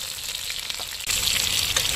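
Fish frying in hot coconut oil, croaker for a Mangalore-style masala fry, with a steady loud sizzle that swells sharply about halfway through and then stays dense and even.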